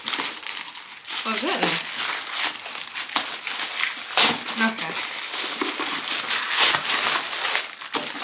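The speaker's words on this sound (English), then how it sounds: "I'm gonna open up the package, you guys." Plastic packaging being torn and crinkled open by hand, close rustling and crackling bursts with a few light clinks, while a person talks briefly over it.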